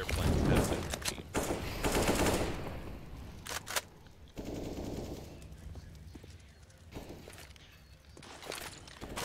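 Gunfire and grenades crackle through a shooter video game match, with dense machine-gun bursts and sharp shots that rise and fall across the whole stretch, loud and close, with faint voices now and then.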